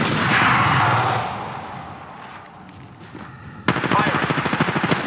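Gunfire in Apex Legends: an initial loud rumbling blast fades, then rapid automatic bursts of shots rattle in a steady stream close by.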